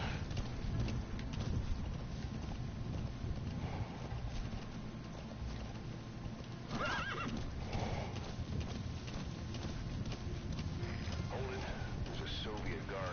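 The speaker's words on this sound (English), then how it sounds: "You have companions in Metal Gear, and I'm not used to having the horse" Horse hooves clip-clop steadily in the Metal Gear video game with occasional neighing, under a constant low ambient bed and faint game sounds, loud and close throughout.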